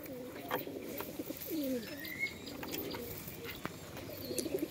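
Pigeons coo repeatedly in a loft, soft rolling calls overlapping at moderate distance against a light hum of background noise, with faint voices in the background.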